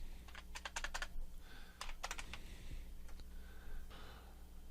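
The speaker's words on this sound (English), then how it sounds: "I'm going to just type in my name" A computer keyboard typed in quick bursts of keystrokes with short pauses between them, close and clear over a low steady hum.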